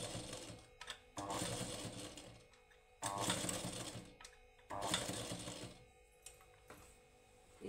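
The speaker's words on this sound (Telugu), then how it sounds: "ఇలా మనకి స్టిచ్చింగ్ రావాలన్నప్పుడు ఇలా కిందకి ఇలా మూవ్ చేస్తామంటే అదే స్టిచ్చింగ్ చేస్తుంది లైట్గా." A motorized sewing machine runs in short bursts of fast rhythmic stitching, four main runs lasting about a second or more each, separated by quieter pauses with faint handling sounds.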